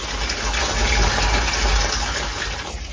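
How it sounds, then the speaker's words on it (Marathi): Water gushes steadily into a newly fitted tank, a close, loud rushing flow with a slight easing near the end and no talk. "तर बघा पाणी पण चालू झालेलं आहे."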